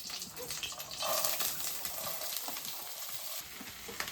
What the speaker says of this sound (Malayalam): പയറൊക്കെ ഞാൻ ആദ്യം അങ്ങോട്ട് ഇട്ട് കൊടുക്കും, എണ്ണയ്ക്കകത്തേക്ക് ഇട്ട് കൊടുക്കും